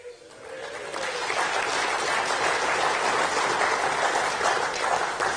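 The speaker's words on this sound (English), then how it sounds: "I don't know if you want to clap after each one of them." An audience at an Australian Workers Union conference breaks into sustained applause that swells within the first second and holds steady and dense to the end.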